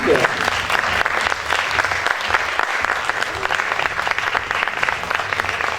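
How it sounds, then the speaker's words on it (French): A crowd at the Miss Aisne 2020 pageant in Gauchy gives sustained, even applause for Miss Picardie 2018, a dense wash of clapping that holds steady throughout. "Merci d'applaudir Asia Kerry, Miss Picardie 2018"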